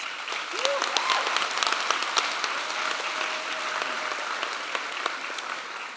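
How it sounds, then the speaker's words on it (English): A graduation ceremony audience claps in a sustained, fairly loud wave of applause, with scattered voices and cheers mixed in throughout. "Give yourselves a round of applause."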